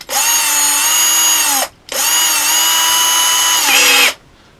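A small power drill whirs at high pitch in two long bursts separated by a short pause, loud and close, drilling through a template into a base plate, the second run slowing slightly before stopping.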